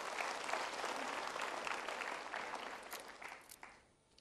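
An audience at a motivational seminar gives steady, fairly faint applause throughout, tapering off near the end.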